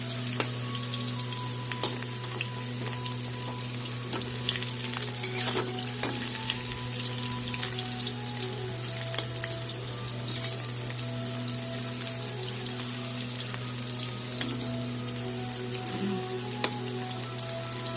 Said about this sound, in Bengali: এভাবে ভাজবে।